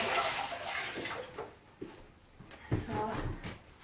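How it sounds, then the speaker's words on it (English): Water poured into a hot-mixed quicklime mortar with grit sand, splashing and trickling in short bursts, fairly quiet with faint handling knocks between pours. "introduce a little bit more water."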